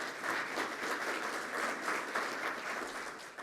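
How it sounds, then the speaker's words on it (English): Audience applause at a real estate event, a steady wash of many hands clapping from a crowd, moderately distant and sustained throughout. "Let's give him a round of applause for that."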